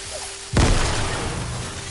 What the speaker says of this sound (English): Throw the grenades in the lava.